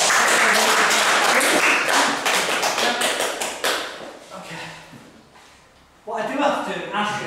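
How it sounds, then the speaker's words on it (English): Audience applause for a man at a live stage hypnosis demonstration, a dense burst of clapping that fades after a few seconds, then a brief renewed swell near the end. "Give the gentleman a round of applause."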